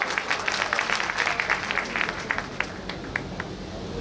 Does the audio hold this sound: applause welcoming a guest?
yes